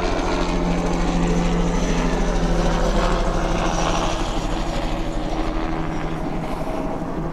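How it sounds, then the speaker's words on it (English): A helicopter flies past nearby, a loud, steady rotor and engine roar that holds for several seconds and slowly eases, heard beside a parked Aero L-39 civilian jet. "let the helicopter go."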